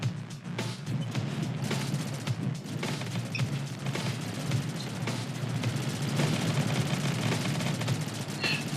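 Enemy gunfire in the Rocketbirds: Hardboiled Chicken video game crackles in rapid, continuous bursts of sharp shots, with occasional crashes mixed in, loud and dense throughout with little pause.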